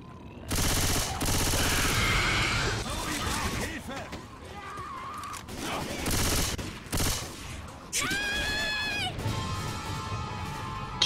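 Bursts of M16 assault rifle fire in Left 4 Dead 2, dense rapid volleys in several separate stretches with gaps between, mixed with crashing game effects and a few tonal squeals near the end.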